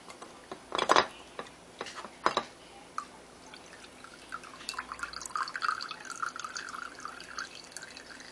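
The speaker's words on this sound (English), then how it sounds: "I take this and I tilt it to the side so it can strain" Strained lavender liquid for a homemade rose and lavender hair spritz drips and splashes into a container, with a few sharp close drops early, then a softer, steady trickle of small drips and faint clinks.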